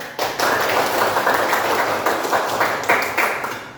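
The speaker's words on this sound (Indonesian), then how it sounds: "Tepuk tangan, tepuk tangan." Fifth-grade elementary pupils clap their hands together in a classroom, a dense burst of many close claps with a few sharper accented beats, lively and loud throughout the short stretch.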